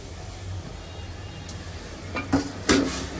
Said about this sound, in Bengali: আমি এখানে চিংড়ি মাছ দিয়ে লাল শাকটা রান্না করতেছি